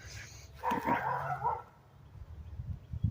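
A dog barks several times in a quick cluster from a short distance along an outdoor trail, then goes quiet as faint rustling and footsteps continue.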